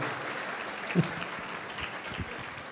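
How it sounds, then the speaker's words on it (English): Audience at a TCF Michigan talk applauds the speaker with a soft, steady wash of clapping, heard a little distant, with a brief thump partway through. "I appreciate the applause"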